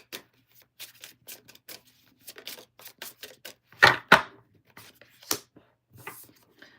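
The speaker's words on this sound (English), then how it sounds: "I want to do 3 more shuffles." Tarot cards being shuffled by hand, close up: a scattered run of crisp clicks and slaps, with a couple of louder snaps of the deck in the middle.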